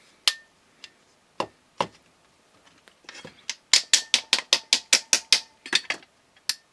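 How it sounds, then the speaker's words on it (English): A run of sharp metallic knocks from a hammer striking the side of a switch, a few spaced strikes followed by a rapid, evenly paced burst of about a dozen loud hits, close up. "just by hammering on the side of this switch, it came loose"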